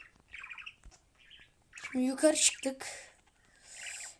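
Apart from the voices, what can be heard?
crow cawing in the video game Granny 3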